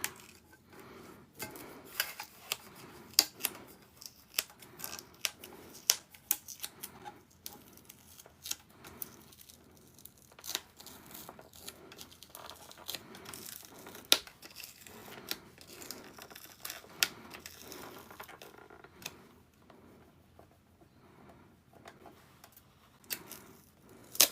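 Scissors trimming a project box's UV DTF transfer material, with repeated sharp snips and crinkly handling in an irregular rhythm, close and fairly quiet, without talk.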